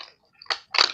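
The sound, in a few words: crunching of plastic packaging while opening Star Wars toys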